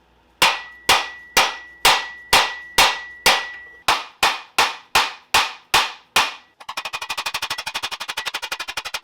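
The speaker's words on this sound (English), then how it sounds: "So after hitting this thing for what felt like hundreds of times, it slowly began to move." Metal hammer blows on a stuck motorcycle swingarm bolt, a dozen loud, evenly spaced ringing strikes, then a rapid burst of quicker clanging hits, close and with no talk.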